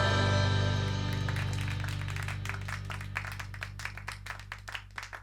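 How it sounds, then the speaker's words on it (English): Sparse handclaps from a small group close out a song, starting under a fading synth chord and sustained tones, then continuing as scattered, uneven claps near the end. "those claps at the end of that song were kind of like, I don't want to say like an obligation clap"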